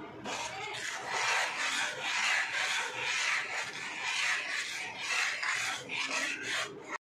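A spoon scrapes and rubs steadily through thickening milk paste for homemade ice cream in a pan on the stove, producing a continuous soft rasping that goes on without speech.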